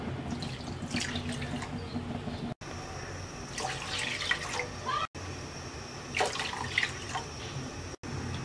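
Water poured into a pan on the stove for hog plum syrup, in several splashy bursts separated by short gaps, close and moderately loud, with a faint background hum.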